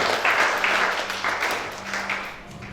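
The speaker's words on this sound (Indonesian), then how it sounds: "Sekali lagi tepuk tangan buat kedua mempelai" Wedding guests at a Christian ceremony in Indonesia clap for the bride and groom, a steady wash of applause that slowly fades, with a faint voice underneath.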